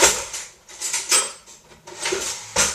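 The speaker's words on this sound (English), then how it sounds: "And I'm just going to grab a spoon." Metal cutlery clatters and clinks as a spoon is picked out of a utensil holder in a home kitchen, with several bright, sharp jangles in quick bursts, close and fairly loud, with no voices.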